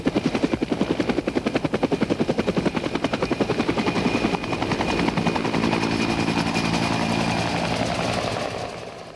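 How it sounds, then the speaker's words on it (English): An AH-1 Cobra attack helicopter flies nearby, its rotor beating in a loud, fast rhythmic chop that blends into a sustained engine roar as it passes. "The Army still has its venerable AH-1 Cobra attack helicopters."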